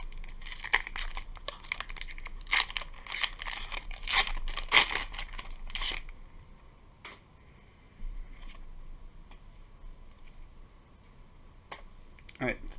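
Pokemon booster pack wrappers crinkling and tearing as packs from the Paldea set are opened, with cards handled close by; dense crackling bursts for several seconds, then sparse crinkles, under a French-speaking voice.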